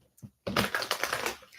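Tarot cards shuffled by hand: a short riffle of crisp, rapid papery clicks and flutters lasting about a second, close and fairly loud after a couple of faint taps.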